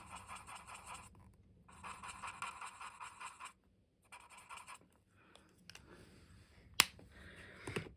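An R11 alcohol marker colours light pink onto paper in bursts of soft, close scratchy strokes separated by short pauses, ending with a sharp tap.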